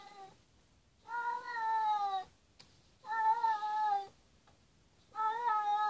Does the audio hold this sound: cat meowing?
yes